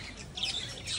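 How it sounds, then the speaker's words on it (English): Faint bird chirps scattered through outdoor background noise at a bee farm in Bohol, Philippines, a few thin tweets rising in the middle and near the end. "There's birds."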